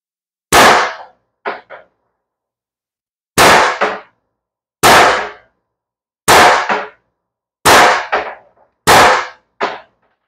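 Steel bearings fired from an HDP50 at 27 joules strike a target in a series of sharp, loud cracks, six main impacts spaced a second or so apart, several followed by a smaller secondary knock, with no talking.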